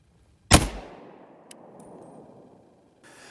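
A single loud, sharp shot from a Sturmgewehr STG-44 assault rifle, fired close by on a shooting range, with a ringing decay tail, a faint metallic click, and a soft clatter near the end.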